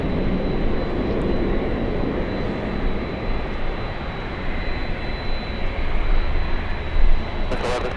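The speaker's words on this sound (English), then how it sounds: "787 on final approach." A Boeing 787 airliner on final approach at LAX, a loud steady broadband jet roar with a faint high whine, filling the whole stretch and swelling slightly near the end, heard from nearby.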